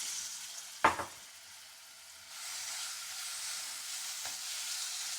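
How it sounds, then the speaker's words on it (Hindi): Marinated chicken fries in cooking oil in a frying pan, giving a steady close sizzling hiss with one sharp clack near the start and a brief knock later, the sizzle swelling louder midway. "अब हम इसमें चिकन पकाएंगे जो मैंने मैरिनेट करके रखी थी।"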